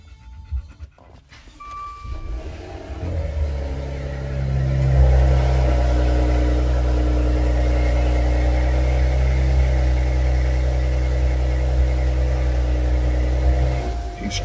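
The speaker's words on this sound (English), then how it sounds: "I thought I'd give you a cold start." A car engine cold-starts after a brief crank, then settles into a steady, loud idle with a constant low rumble close to the microphone, and no talking.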